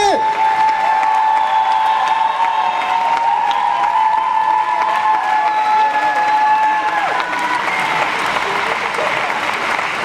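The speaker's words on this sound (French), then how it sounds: "On peut applaudir notre député" A political meeting audience applauds their deputy with loud, sustained clapping and some cheering and whoops, while a held tone rings over the crowd.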